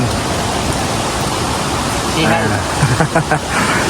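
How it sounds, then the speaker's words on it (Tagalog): Steady hiss of rain falling outdoors by a river during a meal, with brief bursts of voices and movement toward the end. "Naabutan kami ng ulan."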